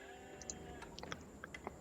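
Faint sheep bleats from Age of Empires IV, in a Mongols versus Chinese match, rising in short scattered calls over a low, steady game background.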